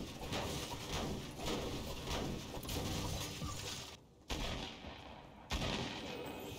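Nearby gunfire in Fortnite, a steady stream of rapid shots and crackling impacts that fills the scene, pausing briefly before resuming with sharp loud cracks.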